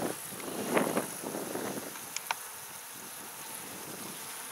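Honey bees inside a hive reacting to an introduced queen, a soft steady buzzing hum with a few brief louder rustles early on, close and alone.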